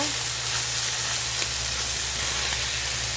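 Ground meat browning in a pan while being stirred, with a steady close sizzle and frying hiss throughout and no talking.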